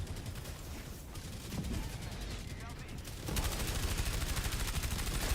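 Rapid automatic gunfire from the Helldivers 2 video game, dense sustained bursts that intensify partway through, loud and continuous against a busy battle background.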